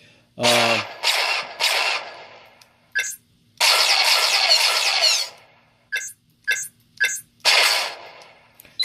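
Short bursts of electronic whooshing and zapping effects from a Nerfworks LPA NN14 prop blaster's boot sound fire off in quick succession, with loud hissy blasts separated by brief silences and clicks.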